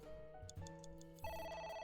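A phone rings in the video game AI: The Somnium Files, a steady electronic ringtone with repeating tones that shift pitch partway through, fairly quiet and with no talking over it.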